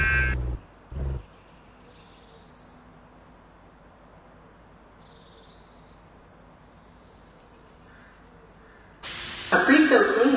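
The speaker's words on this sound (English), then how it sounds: "A pre-filled cleaning product is now being applied to your vehicle." Cleaning product sprays onto a car in a Roblox car wash game (Washworld Razor at a Marathon gas station): a long, even hiss of spray. Short voice bursts come at the start, and a louder burst of sound closes the clip.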